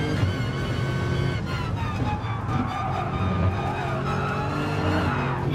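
A race car in GT Sport accelerates with a high whining engine tone that climbs and shifts, along with tire squeal, under steady in-game noise.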